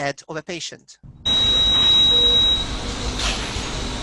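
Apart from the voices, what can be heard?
recording of alarms at an intensive care patient's bed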